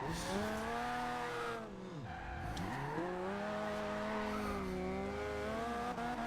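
A Mazda MX5 drifting in Forza Horizon 2: a loud, steady engine note rises and falls through gear changes, with a sharp dip and recovery midway as the tyres squeal and skid under sustained power.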